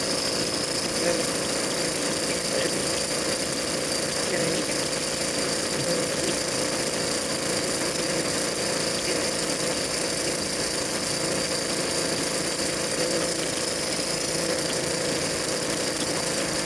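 A 100cc motor fitted to a bicycle runs choked and held at full throttle, a loud, steady, buzzing roar that stays constant and close throughout with no pauses.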